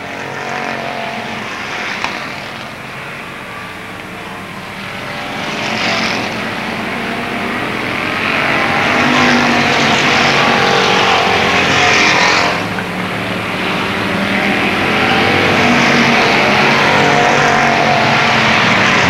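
Race cars at Avilla Motor Speedway in the 1995 season opener roar around the track in a continuous, loud engine drone that swells as the field passes, racing for the lead.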